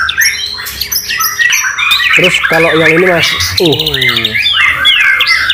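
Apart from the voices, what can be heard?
white-rumped shama (murai batu) singing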